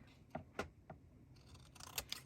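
Scissors cut through a paper tag in three crisp, separate snips, followed by a quicker cluster of rustling cuts, close and quiet with no talking.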